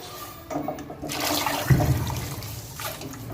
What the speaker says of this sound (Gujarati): આપણે દાળ ઢોકળી બનાવવાની છે એટલે આપણે એમાં પાણી નાખીશું